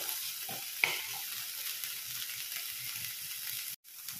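Small fish with turmeric powder fry on a high flame, producing a steady close sizzle with a brief stirring clack early on and a short drop near the end, with no voices.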